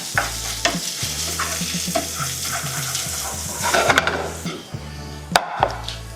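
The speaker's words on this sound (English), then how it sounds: "Let's get this garlic into the pan." Garlic frying in a pan beside sausage, with a loud close sizzle and repeated scraping stir strokes, plus a few sharp clatters from pan and utensil.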